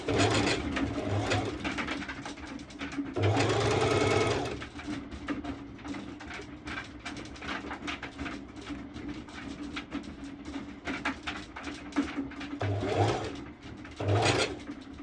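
A new sewing machine runs slowly over a swimsuit with mesh cut-outs in short separate bursts of close whirring stitching, with quieter handling and fabric shuffling between the bursts.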